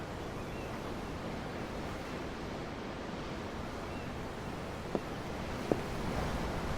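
Ocean waves in the video game Tales of Arise, a steady rushing surf wash heard from aboard a ship, even and continuous, with a couple of faint knocks near the end.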